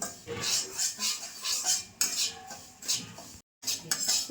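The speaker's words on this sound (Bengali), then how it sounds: "ঘিয়ের মধ্যে দিয়ে সুজিটা প্রায় এক মিনিট মতো ভাজছি" Semolina is stirred and fried in ghee in a pan, with repeated scraping and clinking of a spoon against metal over a soft sizzle, close and rhythmic, with a brief silent gap near the end.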